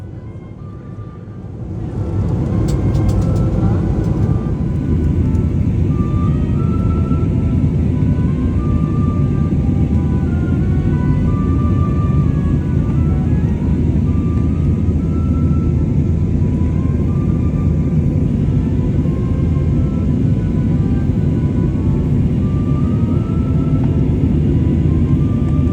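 SAS airliner flying from Zurich, steady loud cabin roar of the engines and airflow holding constant after a quieter opening couple of seconds, with no voices.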